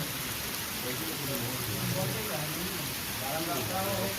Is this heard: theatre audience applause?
no